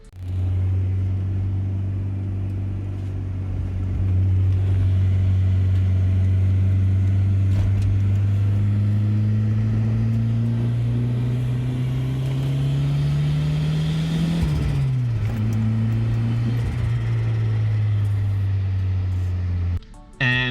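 Turbocharged 1.6-litre Nissan Sentra B13 engine on stock injectors running about 5 psi of boost, revving steadily with a low droning tone that climbs gradually, peaks and drops back, loud and close with no talk.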